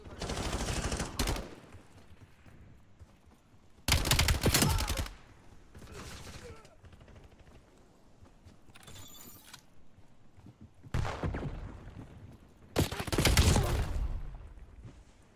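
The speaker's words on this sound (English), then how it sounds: "Hand cannon deployed. Going in with hand cannon." Hand cannon fire in a first-person shooter video game comes in several loud bursts spread across the stretch, each a dense cluster of shots, with quieter game ambience and mechanical clicks between them and no voices.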